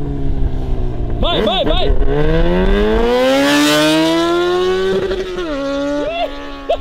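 A Yamaha XJ6 motorcycle revs nearby, its engine pitch dropping on a downshift and then climbing steadily as it accelerates before easing off. People shout excitedly over the engine.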